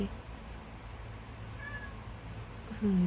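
A small cat gives a single short meow near the end, clear and close over a low, steady background hum, with no talking.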